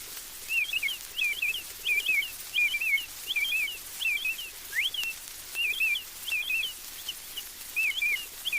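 Someone whistles an imitation of an American Robin's song, a series of clear, rising and falling warbled phrases repeated in short groups with brief pauses, thin and clean over faint hiss. A human whistler imitates the bird.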